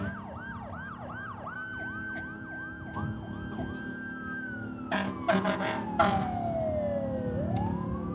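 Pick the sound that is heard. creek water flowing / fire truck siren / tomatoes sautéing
fire truck siren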